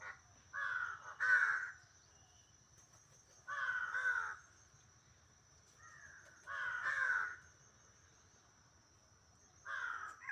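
A wild crow calling outdoors in four evenly spaced bursts of harsh caws, each a short cluster of two or three calls, moderately near over a faint steady insect hum.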